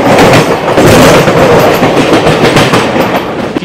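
An LHB express train pulling into Chittaranjan railway station, loud rumbling wheels with rhythmic clickety-clack heard close from on board, continuous throughout.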